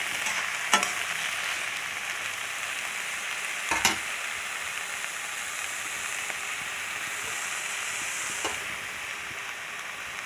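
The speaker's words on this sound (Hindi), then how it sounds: "बैंगन डालने के बाद उसको चलाते रहिए धीमी आंच पे" Eggplant frying in a pan over low heat: a steady, even sizzle runs throughout, with a few sharp clinks of a spoon stirring against the pan, and no talking.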